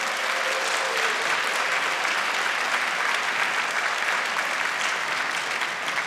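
Steady, full applause from an audience at a professor's retirement ceremony, dense clapping held at an even level throughout with no voices over it.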